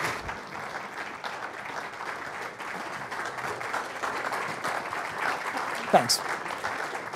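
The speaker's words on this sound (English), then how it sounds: "A round of applause." Audience applause for a panel taking the stage at a C-SPAN evening event: steady clapping fills the room throughout, with a short spoken thanks near the end.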